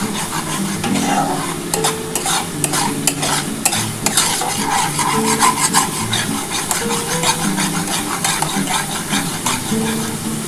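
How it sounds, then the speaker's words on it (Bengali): Spice paste for an egg omelette curry is stir-fried in oil, with a loud, close, continuous scraping of a spatula against the pan over a constant sizzle and no voices. "আগে প্রথমে মশলাটা একটু আমি ভালো করে কষিয়ে নিই।"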